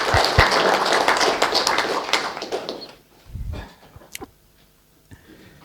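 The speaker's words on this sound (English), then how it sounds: "let's give a nice warm round of applause to all the public servants" A short round of applause for public servants at a digital government workshop, clapping dense for about three seconds and then thinning to a few scattered claps and taps.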